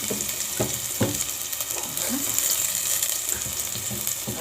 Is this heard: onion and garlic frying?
yes